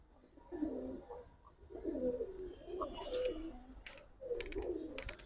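Budapest pigeons, kept as a collection of fancy breed birds, coo repeatedly in a low, rolling rhythm at close range, with several overlapping phrases and a few light higher clicks and rustles between them.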